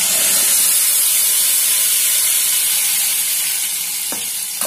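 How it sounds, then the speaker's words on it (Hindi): Masala frying in hot oil with garlic and curry leaves, a loud, steady, close sizzle and hiss that runs throughout, with a brief scrape near the end. "इसको अच्छा 2-3 मिनट हम लोग भून कर लेंगे"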